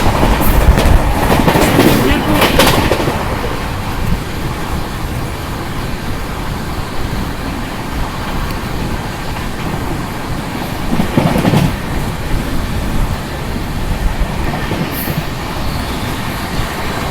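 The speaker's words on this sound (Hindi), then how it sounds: "नई दिल्ली शियालदह राजधानी एक्सप्रेस।" The New Delhi–Sealdah Rajdhani Express passes at a crossing, a loud continuous roar of wheels and rolling stock with rhythmic clatter lasting the whole stretch, heard close to the track.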